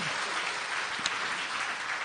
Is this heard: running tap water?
no